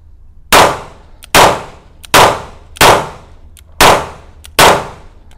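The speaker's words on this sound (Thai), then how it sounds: "ด้วยความเป็นปืนแบบปืนซิงเกิลล้วนผมก็จะยิงแบบอย่างนี้นะ" Six sharp, loud gunshots from a Freedom Arms .357 single-action cowboy revolver, fired one at a time at an even pace outdoors, each crack followed by a short ringing decay.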